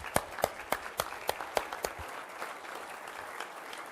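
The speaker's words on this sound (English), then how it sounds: "I'd like to give a round of applause to Catherine Switzer." At an AHCA convention, a few sharp, distinct claps ring out, then soft scattered clapping fades to quiet, fairly close and moderately loud.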